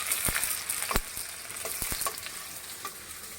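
Steady close sizzling of onions frying in a hot kadai, a bright hiss with scattered pops and crackles, no voices.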